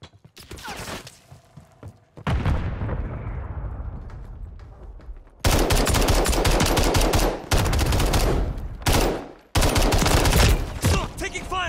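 Gunfire in the Modern Warfare 3 video game on PlayStation 5: dense bursts of automatic weapon fire and loud shots in clusters, with brief pauses between volleys, close and intense throughout.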